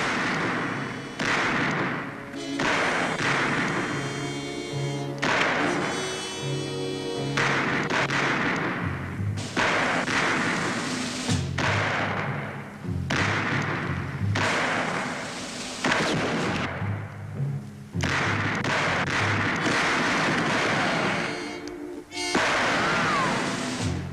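Rapid gunfire from an engineer's gun amid a dense, continuous stream of loud thuds and bursts, with overlapping booms and scattered impacts over a constant background din, no voices.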